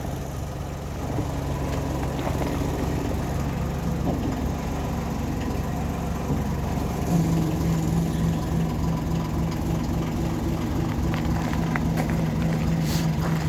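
A Japanese Bobcat front loader runs steadily at close range while its front loader arm lifts to a 2.6-metre unloading height, the engine droning without pause and a slightly higher hydraulic whine joining about halfway through.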